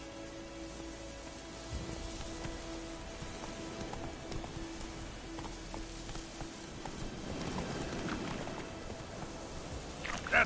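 Roach the horse trots in The Witcher, with steady clip-clop hoofbeats under a patter of rain, moderately close and continuous.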